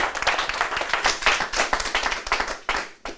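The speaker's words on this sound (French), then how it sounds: "Emmanuel Croaille, sous vos applaudissements." An audience claps to welcome a guest at a live event, a close, dense burst of individual hand claps with an uneven rhythm that tapers and then gives a last few claps near the end.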